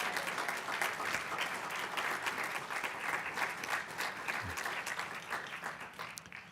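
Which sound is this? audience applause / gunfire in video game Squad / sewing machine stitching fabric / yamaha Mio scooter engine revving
audience applause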